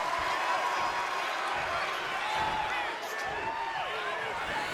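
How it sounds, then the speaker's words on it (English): A wrestling arena crowd roars and cheers steadily during a live match, a dense sustained wash of noise with commentators talking over it. "this crowd getting a bit loud for Fatu here"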